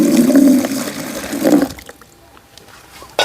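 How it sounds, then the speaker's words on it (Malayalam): Buttermilk, churned with the butter removed, poured from a container into a bucket: a loud gushing liquid stream for about a second and a half, then a brief trickle and quiet dripping. "ഈ മോര് നമ്മൾ ഈ ബക്കറ്റിലേക്ക് ഒഴിക്കാൻ പോവുകയാണ്."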